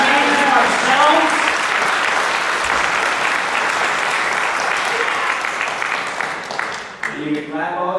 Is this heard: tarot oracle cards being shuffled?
no